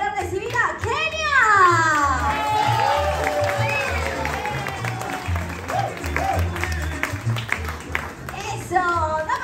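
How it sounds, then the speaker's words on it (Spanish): At a hotel event with Oaxacan dancers, a crowd claps and cheers to welcome a dancer, and excited children's voices and shouts rise loudly over the applause. "El aplauso fuerte para recibir a Kenia."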